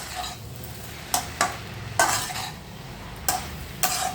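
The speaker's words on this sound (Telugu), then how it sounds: "సాల్ట్, పసుపు వేసాక ఒకసారి మళ్ళీ మనం కలిపేసుకుందాం." A spoon stirs amaranth leaf fry in a pan after salt and turmeric are added, with several sharp scraping clacks against the metal pan spread irregularly over a soft sizzling background.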